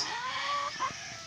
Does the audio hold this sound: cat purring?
no